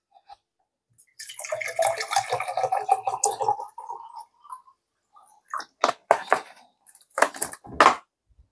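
Water poured into a pot while cooking an African breakfast, a close, splashy pour lasting a few seconds, followed after a pause by several shorter bursts of pouring.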